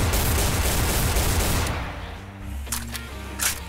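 Gunfire rattles in a Garry's Mod match set in Freddy's pizzeria, a dense continuous barrage that cuts off after about two seconds, followed by a few scattered sharp shots in a quieter stretch.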